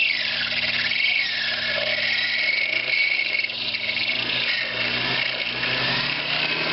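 A Sherline lathe cuts steadily into metal while machining an antique engine fuel pump part, a continuous high-pitched whine with shavings coming off and no pauses.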